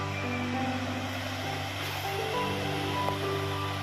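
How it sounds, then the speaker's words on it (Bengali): Sea waves wash onto the crowded New Digha beach in the morning, a steady broad rush of surf with a low hum running underneath, continuous and fairly loud throughout. "ঢেউগুলো জাস্ট দেখো।"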